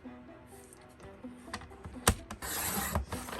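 A paper trimmer slices paper for a small 3x3 mini album, giving soft rubbing and scraping with one sharp snap near the middle and a longer rasping cut toward the end, fairly close and quiet.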